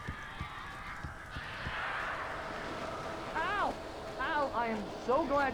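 Strange birds trapped indoors after getting in through a chimney in the video game Alan Wake give honking, goose-like calls in short repeated bursts over a dense, rumbling ambient background.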